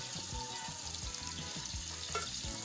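Water pours into a cooking pot of beans over an outdoor wood fire, a steady close hiss and splash with a faint sizzle underneath and no talk.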